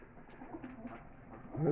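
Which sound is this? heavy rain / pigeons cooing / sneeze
pigeons cooing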